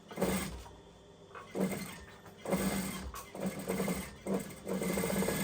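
A sewing machine stitches a fabric pencil case built from lining and two face fabrics, running in several short, close bursts with brief pauses as it sews back and forth to bar tack the corners.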